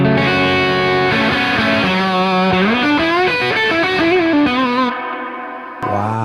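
Sustained electric guitar chords ringing through a lush reverb pedal, notes sliding and blooming into a long wash that trails off near the end.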